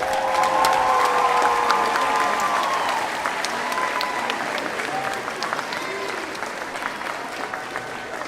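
Graduation ceremony audience at Orlando Science High School applauding and cheering loudly, a dense sustained wash of clapping with whoops, easing slightly after a few seconds but continuing throughout.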